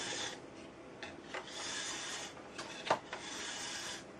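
A metal file scrapes along a ski's steel edge to set the bevel, producing a steady close rasp in light, even strokes with a few brief knocks.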